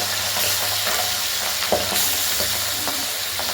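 Pabda fish fry in hot oil in a wok, giving a loud, continuous close sizzle with occasional spits and scrapes as the pieces are moved about, with no one talking.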